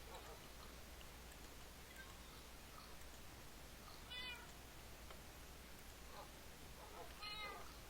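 Two faint, brief cat meows from the Minecraft video game, spaced a few seconds apart over a steady low background hum.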